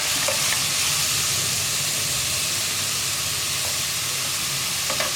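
Sliced onions fry in hot oil in a pan for kadala curry, a steady loud sizzle with faint scraping as they are stirred, no voices.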